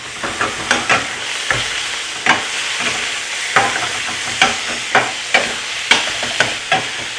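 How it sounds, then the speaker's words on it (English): Loose ground meat seasoned with paprika and cumin fries in a pan with a constant sizzle, broken by a steady series of sharp scraping stirs from a utensil, close and loud with no voices. "when it comes to cooking loose ground meat like this, it generally goes quickly"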